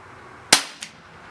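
A Cybergun IWI Jericho 941 metal-slide CO2 BB pistol fires a single sharp, loud shot close by, followed a moment later by a fainter secondary crack.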